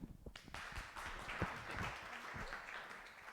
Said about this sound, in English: And then give yourselves a round of applause.